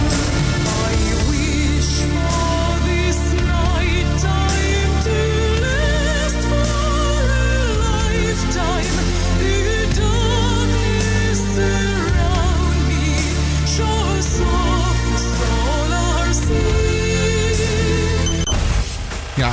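The original recording of a song, a full band mix with sustained melody playing loud and continuous for about twenty seconds, no talk over it.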